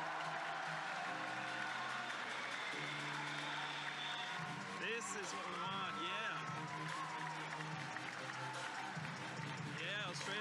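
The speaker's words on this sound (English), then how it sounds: "Just listen to the crowd." A sports crowd applauds and cheers as an Australian rider is welcomed at the start of a competition, steady broad applause throughout with commentators and nearby voices talking over it.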